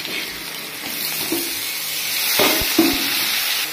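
Potatoes dropped into hot oil in a pan where radhuni spice was already frying, giving a steady hiss with a few small pops and clinks near the end.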